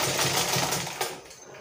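A sewing machine runs fast and close while stitching a stretched band onto Ankara fabric, a dense, even motor rattle that slows and fades near the end.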